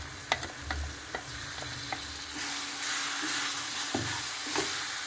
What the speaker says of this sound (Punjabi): ਹੁਣ ਆਪਾਂ ਕੇਲੇ ਨੂੰ ਜਿਹੜਾ ਫਰਾਈ ਕੀਤਾ ਸੀਗਾ ਉਹ ਪਾ ਦੇਵਾਂਗੇ।